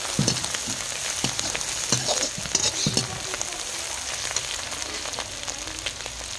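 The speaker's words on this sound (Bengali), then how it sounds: "মছলাখিনি মই ভাজি লৈছোঁ" Spices frying in a pan in a village kitchen make a continuous crackling sizzle, with occasional louder pops and stirring knocks in the first few seconds.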